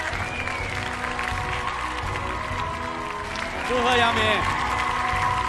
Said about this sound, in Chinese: 我们把掌声送给赵江峰